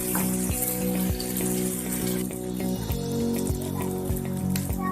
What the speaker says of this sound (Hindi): ऑयल हमारा गरम हो गया है, बस अब हमने इसके अंदर जो है ये स्टिक्स रख देनी है